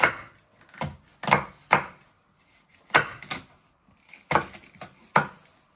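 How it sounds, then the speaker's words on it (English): A knife slices ingredients on a cutting board for Singapore vermicelli, about eight sharp, distinct chops in an uneven rhythm with short quiet gaps, close up and with no talking. "and then you just want to finally slice it"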